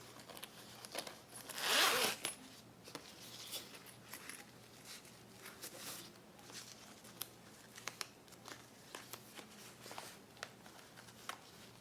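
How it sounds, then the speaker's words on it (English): Zipper pulls slide along the zipper of a sewn fabric range bag, making one sharp, close rasping zip, followed by quieter scattered clicks and handling rustles in a quiet room. "Move my zipper pulls."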